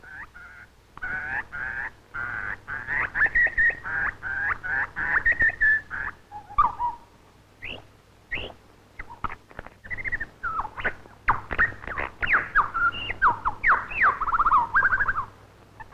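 A male lyrebird calling in the wild, a long run of loud, varied whistles, warbles and sharp clicking notes in rapid bursts with brief pauses, close and alone with no talk.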